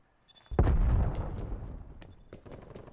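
Gunfire in Black Ops Cold War: a sudden loud blast that rings out and decays over a couple of seconds, followed by a few fainter distant shots.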